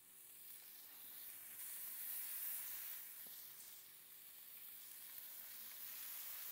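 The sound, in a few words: burger meat balls sizzling on a Pit Boss griddle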